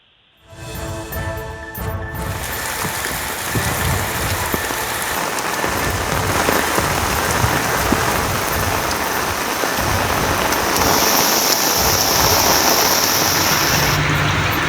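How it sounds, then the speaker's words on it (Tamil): Widespread rain falls across Tamil Nadu. After a brief quiet start it swells into a close, dense, steady patter on surfaces that continues unbroken to the end, with no voices. "தற்போது பரவலாக பல்வேறு மாவட்டங்களிலும் மழை பெய்து வருகிறது"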